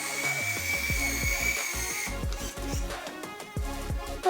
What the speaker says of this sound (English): I just get my Beachwaver and clamp it towards the ends and then press the button.